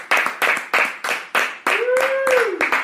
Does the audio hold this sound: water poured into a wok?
no